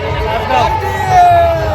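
Dense crowd babble at a busy village fair, many voices blending into a steady murmur with no single speaker standing out, rising slightly toward the end.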